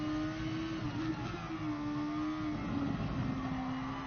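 Race cars in the video game Gran Turismo Sport at the Nürburgring GP, a high steady engine whine with pitch rising and falling slightly as cars pass, over a continuous engine drone at moderate level.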